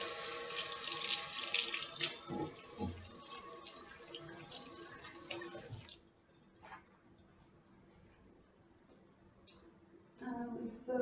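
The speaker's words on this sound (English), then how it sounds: "Wash my hands again." Kitchen tap water runs into a sink for about six seconds during hand washing between cake-decorating steps, a steady close splashing that then stops, leaving quiet with faint clinks before activity resumes.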